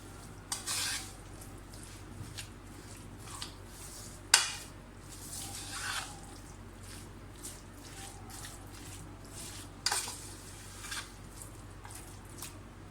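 Spices are worked into raw chicken for biryani, with a few sharp metal clinks of a spoon on a dish and soft wet rubbing and stirring between them, close and quiet.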